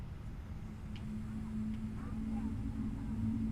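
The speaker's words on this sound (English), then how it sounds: "The engines are spooling up." Jet engines of a Boeing 777-300ER spooling up in a flight simulator game, a steady low rumble with a rising tonal whine that holds and builds slightly in loudness throughout.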